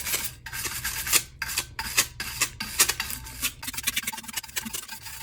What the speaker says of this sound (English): I'm going to take my new scrub brush and give her a scrub.